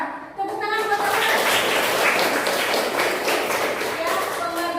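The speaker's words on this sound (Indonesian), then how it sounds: "Tepuk tangan buat Aura." A classroom of children claps for a student, a dense, steady patter of many hands near and loud for several seconds, with kids' voices and a teacher talking over it.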